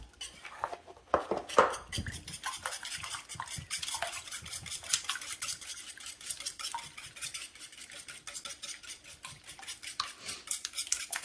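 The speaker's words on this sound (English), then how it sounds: "Just whisk these up." Eggs whisked in a bowl with nothing added, a quick, steady rattling of utensil against the bowl that keeps going without pause, close and fairly loud, with no talking.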